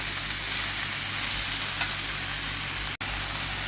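Broccoli and pepper fry steadily in a pan with garlic, making a continuous close sizzle with a brief gap near the end and no talking.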